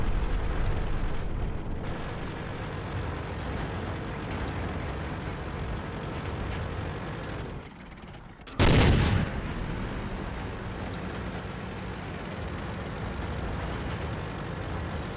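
A World of Tanks battle with a WZ-120 tank: a steady low rumble of engine and battle noise, broken past the midpoint by a single loud, sharp cannon blast with a broad burst, before the rumble resumes.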